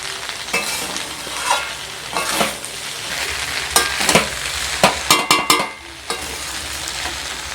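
Home-style pasta stirred in a hot pan, a constant close sizzle broken by scraping spoon strokes and a quick run of clacking hits near the end, with no voices.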